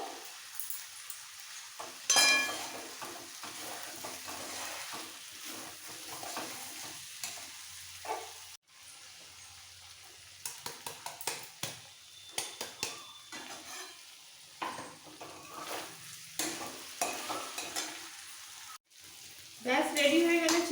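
Fried spice mix being stirred into chicken roast in a pan, with soft sizzling broken by irregular spatula scrapes and metal clinks, a few quiet gaps, and a brief louder burst near the end.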